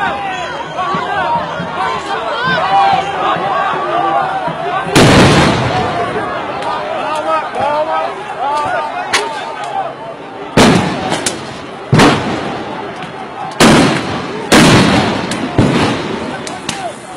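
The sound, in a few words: riot police firing rubber bullets at protesters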